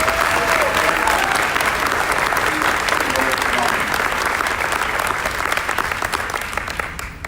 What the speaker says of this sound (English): how about one of the first of many rounds of applause for this wonderful group of students